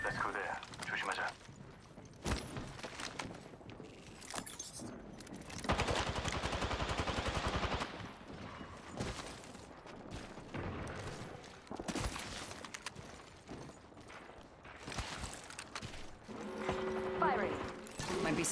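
Video game gunfire arrives in several loud bursts of rapid shots, broken by quieter gaps, with mechanical clicks and a voice speaking between the volleys.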